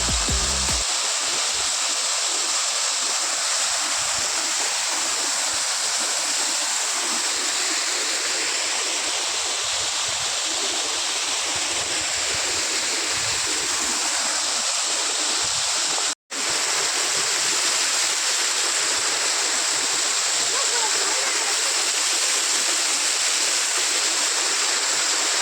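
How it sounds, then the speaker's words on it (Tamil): Karimutty waterfall runs heavy after rain, a steady loud roar of rushing water throughout with no voices, briefly cut once near the middle. "இது ஒரு மழை பெஞ்சதுனால இந்த அளவுக்கு தண்ணி கொஞ்சம் அதிகமாகவே வருதுன்னு சொல்லலாம்"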